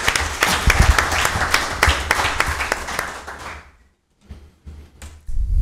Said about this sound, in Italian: chiedo ancora una volta un applauso a queste associazioni e al loro prezioso